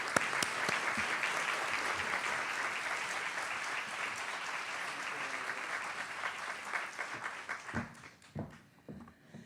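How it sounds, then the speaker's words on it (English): Audience applause welcoming someone speaker at a talk on clean energy, a dense sustained wash of clapping that thins into scattered claps near the end. "let's give her an applause"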